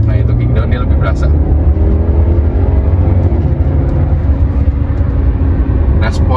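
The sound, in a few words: BMW 320i F30 B48 engine revving on kick-down acceleration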